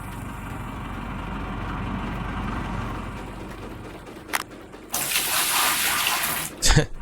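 Running water in a gold-prospecting setting, a low steady rush at first that swells into a louder, close gushing flow partway through, with a brief splash just before and another burst near the end.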